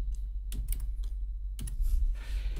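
Keys tapped on a computer keyboard in two short bursts of typing, close and clear, with quiet pauses between and a low steady hum underneath.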